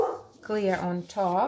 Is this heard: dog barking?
yes